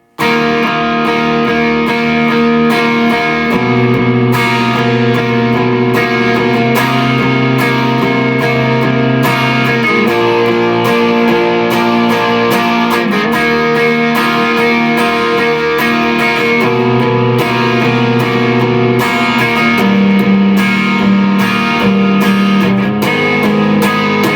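Distorted electric guitar plays a full, loud chorus section of a song with sustained chords, steady and continuous for the whole stretch, no voices.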